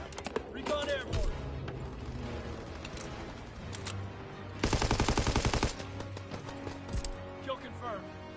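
Gunfire and explosions from a WWII video game: bursts of machine-gun fire, scattered single shots and dull booms, with one long dense rattling burst in the middle, all close and loud, along with faint game voice chatter.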